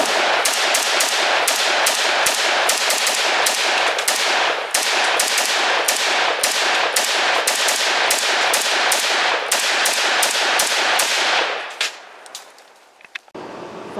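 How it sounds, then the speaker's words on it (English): Swiss STGW.90 rifle fired at an outdoor range, a long run of loud, sharp close-up shots in quick regular succession, then a stop with faint rustling and a couple of small clicks. "let's go to the range, run some more rounds through this good old gun here"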